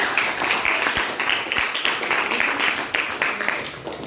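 A group applauds during a coaching session for academic supervision, a continuous wash of scattered claps with voices underneath throughout.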